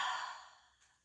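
A single soft, breathy exhale, airy and close, fading out over about a second.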